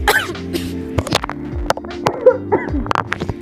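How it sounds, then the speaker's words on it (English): Several short, harsh coughs break out over a steady low hum and background music. "I just suddenly cough."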